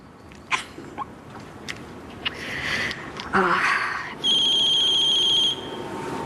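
A phone rings once in a steady electronic burst of about a second, loud and close, after shuffling and faint background noise in a room.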